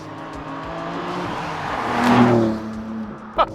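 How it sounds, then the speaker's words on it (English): A 2021 BMW M3 drifting out of a corner in second gear, engine droning steadily then rising to a loud revving surge, followed by a brief sharp spike near the end. "I'm gonna try to get a bit of drift action here, coming out the corner."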